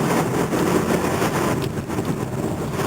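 A Hyundai Genesis 2.0T turbo engine pulls uphill in fifth gear at around 2,500–2,700 RPM under firm throttle, giving a steady, loud drone mixed with broadband road and wind rush that holds level for the whole stretch, with no talking.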